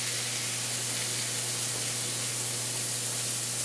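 A ribeye steak sizzles in a hot skillet on a stove eye, a steady loud hiss with a low hum running underneath and no pauses.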